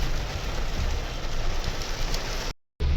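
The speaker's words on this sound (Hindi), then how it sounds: "ये बारिश की आवाज़ है।" Heavy rain drums on a car sunroof, a dense close patter filling the space, cut by a brief silent gap near the end before resuming.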